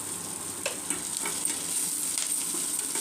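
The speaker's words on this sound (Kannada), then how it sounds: "ನೋಡಿ, ಎಲ್ಲ ಕೂಡ ಈಗ ಫ್ರೈ ಆಗಿದೆ." Pasta masala upma ingredients frying in a pan, a steady close bright sizzle with occasional soft clicks of stirring, continuous and even throughout with no talking.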